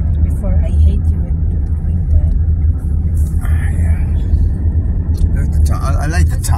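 A car drives along a road near a Colorado ski resort town, heard from inside as a steady low engine and road rumble under people talking throughout.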